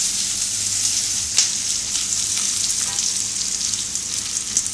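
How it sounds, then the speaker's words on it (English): Green chilies fry in a pan for prawn vindaloo, giving a steady, loud, close sizzle with occasional crackles and stirring scrapes throughout. "I'm going to put my green chilies right in there."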